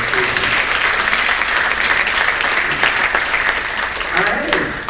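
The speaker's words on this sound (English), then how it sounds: "just a round of applause for the logistics for these people" An audience at a research update event bursts into sustained applause for the logistics team, a dense, loud wash of clapping that holds steady throughout with voices faintly mixed in.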